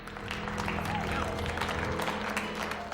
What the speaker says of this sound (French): On a promis qu'on applaudirait, alors on applaudit.